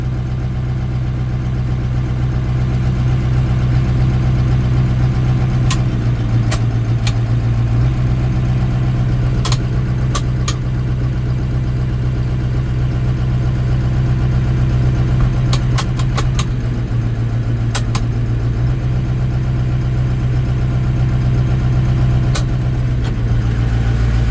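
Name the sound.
diesel truck engine running under load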